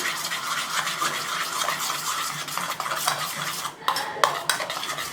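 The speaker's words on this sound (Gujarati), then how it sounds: "એકદમ સરસ મજાનું હલાવી લઈએ આપણે." A spoon stirs moong dal batter in a bowl, giving a continuous close scraping and swishing with a few sharper clinks near the end, no talk.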